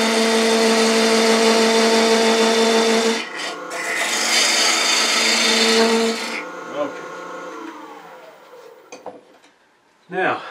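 A wooden goblet spins on a lathe while its top is shaped with a turning tool, giving a loud, continuous scraping, rasping cut that pauses briefly, resumes, then stops, leaving quieter handling noises and a final knock.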